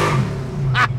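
A 1970 Mercury Cyclone Boss 429 V8 gives a deep, loud, close rumble that swells into a brief rev, with a hiss of tire or exhaust noise toward the end.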